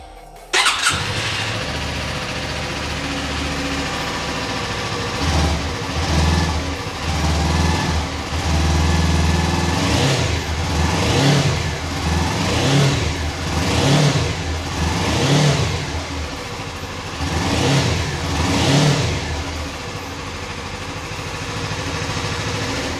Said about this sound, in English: Okay, let's start this up and listen to it run.